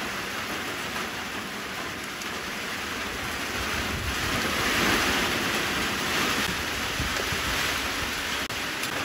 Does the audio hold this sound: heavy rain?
yes